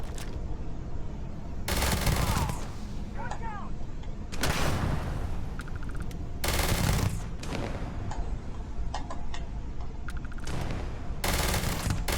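A gun fires in the space game Starfield, several loud broadband bursts at irregular intervals, with game noise and a voice between them.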